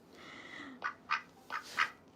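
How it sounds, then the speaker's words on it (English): A tame duck quacks outdoors on a city street, giving four short, separate nasal quacks at a moderate distance after a brief squawky call, with no talking. "they've never been this close to a duck, let alone a tame duck"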